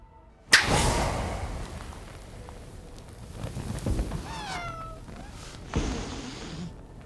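Cat letting out a couple of short meows amid a tense scene from The Witcher season 3, with a sudden whip-like crack at the start, a thud later on and faint background noise between.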